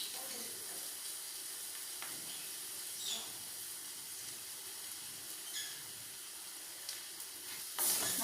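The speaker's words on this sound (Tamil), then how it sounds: "நல்லா வதக்கிக்கோங்க." Sautéing in a frying pan for crab chops, with salt added: a steady soft sizzle with faint scraping stirs and a few sharper clinks, continuous and fairly quiet throughout.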